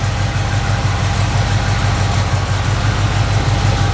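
A 1967 GMC C15 pickup truck engine idles steadily and smoothly, a close, even low rumble with a regular pulsing beat throughout, no voices.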